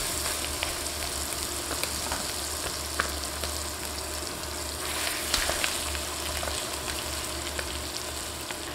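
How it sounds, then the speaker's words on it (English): Chicken pieces brown in olive oil in a Dutch oven for one-pot paprika chicken and rice, a soft steady sizzle with occasional faint clicks and shifts, quiet and without talk. "Now we're just going to brown these off on both sides."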